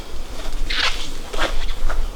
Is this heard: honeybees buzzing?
yes